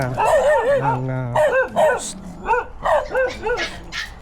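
A dog barks and yips repeatedly in short, uneven bursts, loud and close, with a whimpering whine between barks and a person talking softly underneath.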